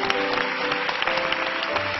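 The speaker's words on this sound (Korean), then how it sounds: "큰 박수로 한번 환영해 주시기 바랍니다" Church congregation applause welcoming pastor Kim Seung-su to the pulpit, a steady, moderately loud roll of many hands clapping together, with a faint sustained tone from music underneath.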